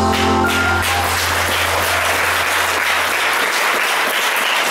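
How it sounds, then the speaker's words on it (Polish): Warm audience applause at a Polish poetry competition after a poem is read, a dense, loud, continuous clapping that sets in as a low tone from a sound system fades out at the start. "Gorące brawa dla"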